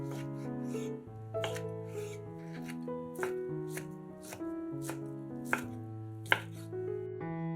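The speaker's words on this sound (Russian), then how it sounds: "100 грамм свиной грудинки тоже нарезаем кубиками." Soft, muffled knife cuts dice smoked pork belly against a board at an irregular pace, fairly quiet beneath background music, with a couple of sharper knocks near the end.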